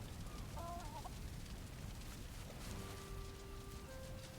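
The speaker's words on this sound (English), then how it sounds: "Cellist is tame and happy, a wonderful hen" A tame hen in the Valheim video game clucks softly in short, faint bursts over a steady low background hum.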